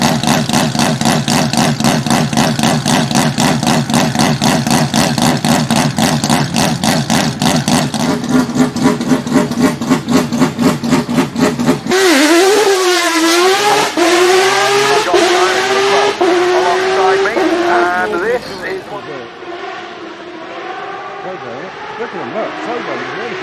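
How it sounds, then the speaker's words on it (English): A loud Peugeot 205 with a three-rotor 20B rotary engine revs hard and buzzes at high pitch, then the engine note wavers up and down as it drops back to a rough idle. "Peugeot 205 with 3-rotor 20B engine."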